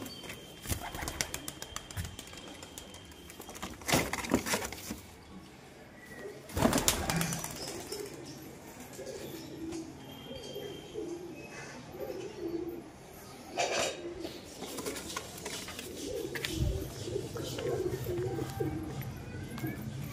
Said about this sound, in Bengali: কিছু কবুতর নিচে ছেড়ে দিই।